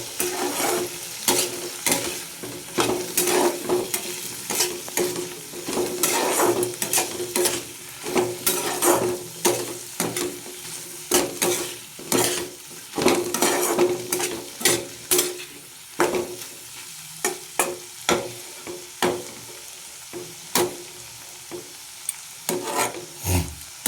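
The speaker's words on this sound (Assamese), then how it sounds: "ঢাকন দি মই ভাজি আছোঁ এতিয়া" Pigeon meat frying in oil in a covered pan, a continuous sizzle broken by repeated sharp clinks and scrapes of stirring and the lid, fairly loud and close throughout.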